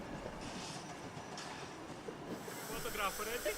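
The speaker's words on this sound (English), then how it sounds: "The train glides by into the loop line and comes to a gentle stop." A train on the Gulbene–Alūksne narrow-gauge railway rolls slowly into a loop line and eases to a stop, a steady rumble of wheels with hiss and faint squeal rising near the end, with some voices nearby.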